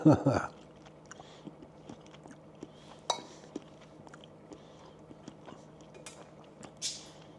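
Someone chews a bite of Greek-style banh mi filling mid-preparation, with soft wet mouth sounds and occasional small clinks of utensils against a quiet kitchen background after a louder burst at the start.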